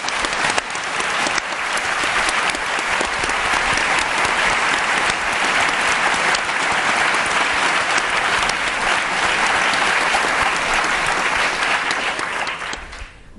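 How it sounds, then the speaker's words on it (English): Sustained, loud applause from a large audience at a round table talk, dense clapping filling the whole stretch and tapering off at the very end. "I can hear from all your claps, there's such enthusiasm in the audience"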